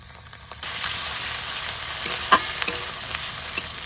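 Cumin and coriander paste hits hot oil with already-fried ginger, garlic and onion for a Bengali magur, singi and lata fish curry, jumping into a steady close sizzle with a few sharp pops and stirring clinks.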